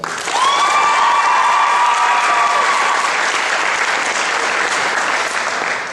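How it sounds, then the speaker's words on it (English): Sustained applause from a crowd at a talent show after performances, steady and full for several seconds, with a faint whistle or cheer rising briefly near the start. "So you guys definitely deserve a round of applause."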